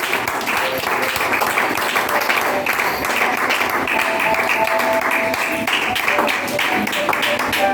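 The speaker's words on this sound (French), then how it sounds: "Acclame le Seigneur Jésus-Christ pour toi-même" Congregation applauding and clapping at a Pentecost Sunday church service to acclaim Jesus Christ, a steady dense wash of claps lasting throughout, mixed with voices and some tonal sound in the background.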